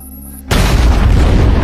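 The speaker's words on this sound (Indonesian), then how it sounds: "Saat James sedang berkunjung ke makam Vesper, dia dikejutkan dengan ledakan sebuah bom yang hampir saja merenggut nyawanya." A bomb blast at a graveside in Daniel Craig's final James Bond film hits after a half-second of quiet, a sudden loud boom that swells into a sustained, roaring rumble of debris.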